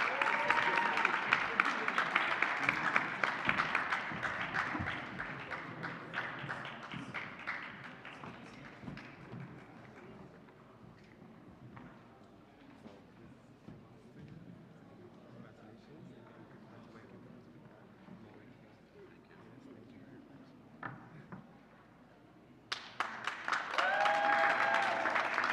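An award-ceremony audience gives a recipient a dense round of applause that fades over several seconds, then a voice speaks over a quiet room before a sudden fresh burst of clapping near the end.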